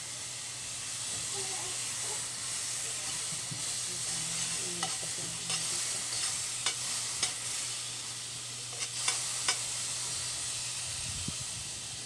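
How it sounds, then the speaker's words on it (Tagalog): Butter melting in a pan for a Filipino-style creamy macaroni, giving a steady soft sizzle and hiss with a few light clicks of stirring, fairly quiet and without talk. "Ilalagay ko na to. Yung mantikilya natin."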